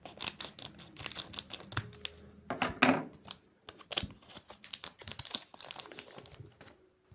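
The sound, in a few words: opening a pack of Jujutsu Kaisen trading cards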